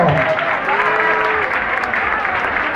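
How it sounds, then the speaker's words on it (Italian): Applause from a nightclub crowd for performers, dense and continuous through the whole moment, with faint voices and a whistle-like tone mixed in. "un applauso."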